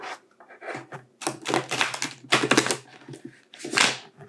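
Tarot cards are shuffled up close for a reading, a series of crisp, papery riffling bursts separated by short pauses.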